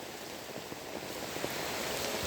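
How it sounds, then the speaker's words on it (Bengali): Heavy rain pours down in a steady, dense hiss with scattered drops pattering on nearby surfaces, continuous and fairly loud with no voices. "এখন আপনাদের দেখাইতেছে কি পরিমাণে বৃষ্টি হচ্ছে"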